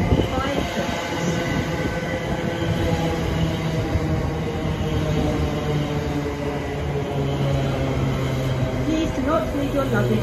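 A Greater Anglia train stands at Stratford station, its steady low rumble and hum running loud and continuous, with a sustained tonal drone and faint wheel sounds under a platform announcement voice.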